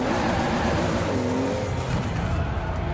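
A Toyota Supra turbo engine in the Forza racing game drones steadily with rising and falling whines and tonal sweeps, loud and continuous throughout without speech.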